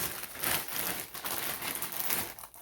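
Plastic packaging around a pair of SHEIN shoes crinkles and rustles steadily up close, a continuous bright crackling with small bursts, no voice over it.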